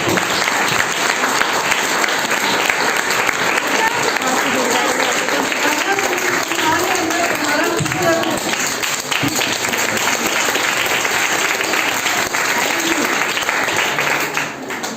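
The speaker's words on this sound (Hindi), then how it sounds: "उस विशेष के लिए तालियां बजाओ" A room full of students applauds together in a motivational class, loud, dense and unbroken clapping that holds steady for the whole stretch, with voices faintly mixed underneath.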